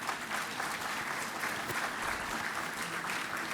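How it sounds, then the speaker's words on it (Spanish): An audience applauds at a Peruvian conference, a steady, dense wash of many hands clapping together, moderately distant and continuous throughout. "Nuevamente un aplauso para él, por favor."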